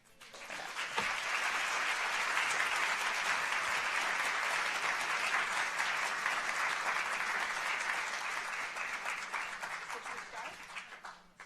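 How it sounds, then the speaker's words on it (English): Warm audience applause at a Philadelphia literary grand-finale event, many hands clapping in a sustained roar that swells quickly, holds for around ten seconds, then tapers off. "Let's give Christine another round of applause."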